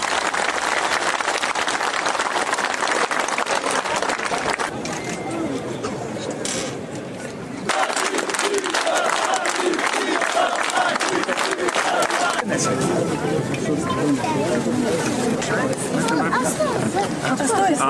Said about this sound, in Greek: Ένα μεγάλο ευχαριστώ και χειροκρότημα για τον Πρωθυπουργό μας.